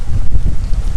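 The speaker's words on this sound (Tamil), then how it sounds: "அந்தளவுக்கு பயங்கரமாக காற்று வீசிகிட்டு இருக்கு" Strong wind buffets the microphone outdoors in gusty, low rumbling bursts, loud and close, during open-air cooking of clay-wrapped chicken.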